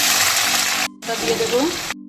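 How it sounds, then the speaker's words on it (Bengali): Chopped onion hits hot mustard oil for a duck curry, giving a dense, steady sizzle that breaks off briefly, then returns with light clatter before a final short cut. "আমি তেলের মধ্যে এবার আমি পেঁয়াজ কুচি দিয়ে দেবো"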